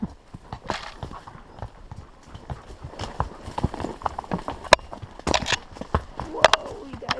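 Hooves clip-clop in an uneven walking rhythm, close by, with occasional soft snorts and quiet voices in the background.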